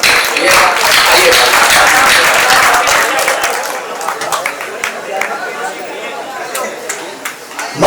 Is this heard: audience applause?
yes